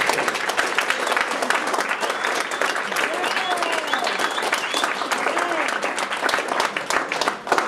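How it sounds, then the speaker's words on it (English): A big round of applause from a conference audience at a closing session, dense and sustained clapping throughout with some crowd noise. "we bought them a big applause for this"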